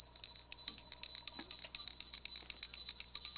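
A small hand bell rings in quick repeated strokes, a bright, steady metallic jingle close by with no talking.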